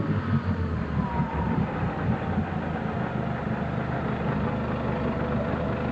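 A 2013 Mercury 150 hp four-stroke outboard idles with a steady, even low rumble and hum close by, with no talking.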